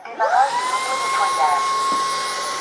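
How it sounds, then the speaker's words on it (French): A Dreame H14 Pro wet floor vacuum running its self-cleaning cycle, the brush spinning while water is sent onto it: a steady, loud motor whine with tonal hum and whooshing, continuous from start to end. "Donc j'appuie sur le bouton en haut de la crosse pour lancer l'auto-nettoyage."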